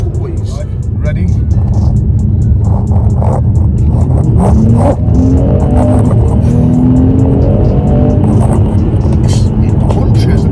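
A Mercedes E43 AMG accelerates hard, with a loud, continuous engine roar and rising revs sustained throughout, with possible tire noise and a voice talking over it.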